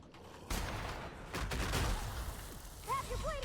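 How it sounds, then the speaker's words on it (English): N-Ray and assault rifle fire in The Outer Worlds, a burst of gunfire and energy-weapon shots in combat, fairly dense at first and then fading into scattered bangs, with a short creature-like squeal near the end. "Maybe I try my N-Ray and assault rifle,"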